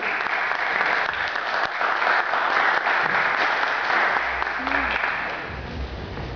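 Audience applause for a speaker at a youth poetry gathering, a steady dense clapping that holds for about five seconds, then thins and fades slightly toward the end.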